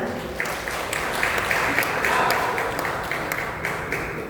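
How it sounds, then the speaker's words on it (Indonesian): Applause in a regional legislative council session greeting a newly appointed official, an even, sustained round of clapping from the assembled members, steady and moderately loud. "Mohon tepuk tangannya."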